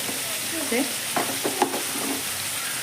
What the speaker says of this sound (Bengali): আবার হলুদ আর কাশ্মীরি লঙ্কা দিয়ে আবারও নেড়ে দিচ্ছি